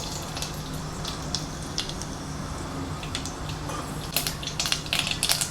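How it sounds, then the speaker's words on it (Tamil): Mustard seeds and urad dal splutter in hot oil, giving a steady sizzle with sharp crackling pops that grow denser toward the end. "கடுகு பொறிஞ்சிருச்சு"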